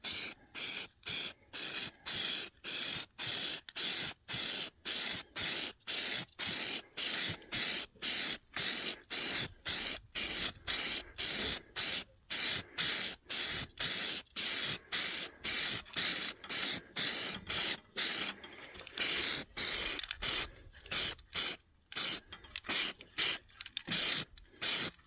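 Spray primer is applied to laid-out timber components for an outdoor kitchen sunshade canopy. Dozens of short, sharp aerosol hisses come in quick, regular bursts, close and fairly loud, with no talking.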